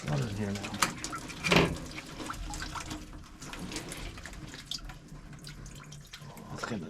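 Water runs and drips from a faulty valve on a heating system and splashes into a bucket. The steady trickle and splatter go on throughout, mixed with clanks and handling noise.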